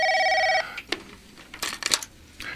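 A telephone rings with a brief electronic trill at the start and then stops as it is picked up, followed by a few clattering handling sounds, close and fairly loud.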